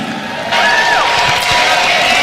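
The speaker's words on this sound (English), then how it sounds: "Durant gets a nice round of applause." A basketball arena crowd at a Team USA versus Argentina exhibition game applauds Kevin Durant, with a steady loud wash of clapping and cheering that swells partway through, while commentators talk over it.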